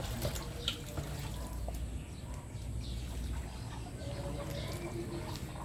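Water runs steadily and faintly from a tap, a low continuous wash being fetched for pet chickens, with a bird or two chirping far off in the background.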